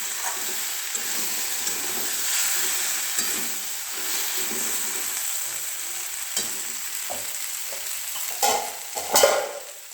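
Vegetables fry in a pan with a steady sizzle and hiss, and stirring scrapes and clatters grow louder toward the end.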